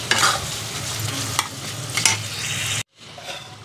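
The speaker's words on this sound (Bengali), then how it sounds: "এইদিকে কিমাটা আমি কষাচ্ছি" Mutton mince sautéed in a pan gives a loud, busy sizzle with scraping spatula strokes and stirring clatter, close up, before a brief cut to a quieter frying tail.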